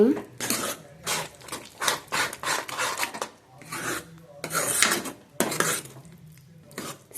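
A spoon scrapes and rubs around a pan while tomato chutney is stirred to break up lumps, in a series of rasping strokes with short pauses between them.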